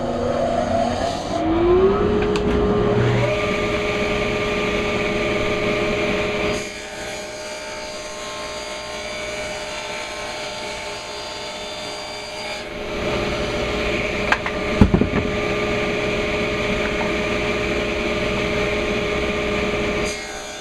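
Table saw set to a 3-inch depth running a wood piece against the fence, a loud steady motor whine with cutting rasp that drops and returns, plus a brief clatter near the end.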